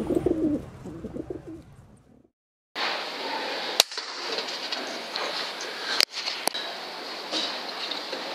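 A pigeon coos softly in low, rolling calls at the start, then the scene turns into a steady outdoor hiss broken by a few sharp clicks.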